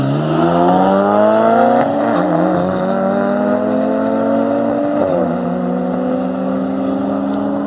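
A BMW car accelerates hard down a 402 m drag strip, its engine note climbing steadily in pitch, with a couple of brief gear-shift dips along the way. The roar stays loud and close throughout.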